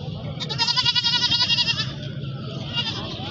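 A female goat at a livestock market in Lahore bleats once in a long, loud, quavering cry close by, over low background crowd murmur.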